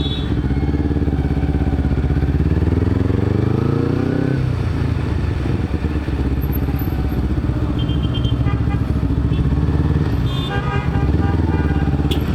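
Kawasaki Ninja carburetor motorcycle being ridden, a steady buzzing two-stroke engine drone with shifting revs and a rise in pitch partway through, loud and continuous, with faint traffic around it.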